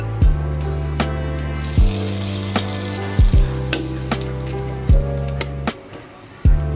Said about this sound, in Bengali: এটা সাথে একটু তেল দিয়ে মাছটা ভুনা করে নেব।